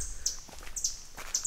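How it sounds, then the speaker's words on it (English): Small, sparrow-like birds chirp in thick woods, with three sharp, high calls spaced about half a second apart over a faint outdoor background. "They're like sparrows or something,"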